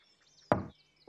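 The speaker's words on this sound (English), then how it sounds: "Laa Laa knocked on the door." A single soft knock on a door in a children's television scene, one brief dull thud standing alone against a quiet background, followed by the start of another sound.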